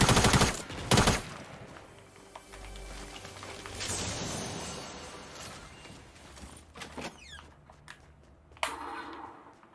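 A new weapon firing in Fortnite: a couple of sharp, loud gunshots, then a scatter of further shots and rattles amid busy game sounds, with no talking.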